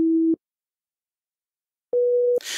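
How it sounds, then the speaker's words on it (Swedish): A plain sine tone from the SubSynth synthesizer in Caustic 3 sounds twice, each a short steady note: one lower and brief, then after a long gap a slightly higher one, ending as a burst of noise begins. "men då hörs bara en enkel sinuston."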